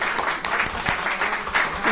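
An audience applauds in a brief round of moderate clapping, with a few voices audible underneath.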